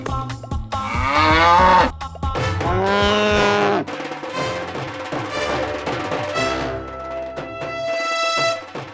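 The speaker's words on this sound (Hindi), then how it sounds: "घर में और भैंस, व्हाट्स अ कूल आइडिया" A buffalo moos loudly inside a house during a kitty party in a TV episode, giving long, strained, harmonic bellows one after another with no talk over them.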